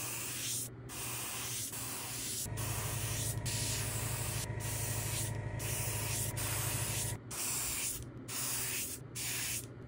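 An airbrush sprays paint onto the hood of a hoodie, a loud, close, continuous hiss that swells and drops in short bursts with brief gaps between passes, no voices.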